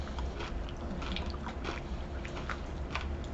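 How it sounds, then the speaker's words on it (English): Someone chewing a Reese's potato chip peanut butter cup, salty crunchy chip pieces inside peanut butter and chocolate, giving close, steady soft crunches and bites through a quiet low background. "And they have a good amount of crunch to them."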